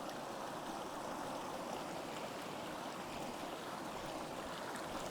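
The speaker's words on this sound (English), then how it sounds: "Like I'm whipping this thing right now and water's just shooting out of it." Water streaming and dribbling out of a Sawyer Mini water filter as it is shaken hard, a steady, close, continuous wet hiss and trickle with no pauses and no talking.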